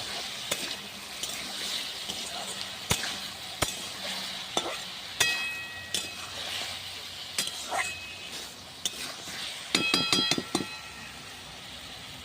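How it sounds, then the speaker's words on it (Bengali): Potatoes frying in a pan with turmeric and salt while being stirred, gentle sizzling broken by sharp clinks and scrapes of a utensil against the pan, some in quick clusters, no talk. "আলুগুলো নেড়ে দেবো।"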